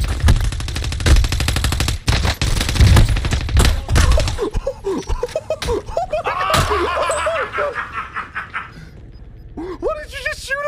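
Rapid automatic gunfire in a shooter video game rattles in dense, loud bursts for several seconds, then gives way to excited voices and laughter with a few scattered shots.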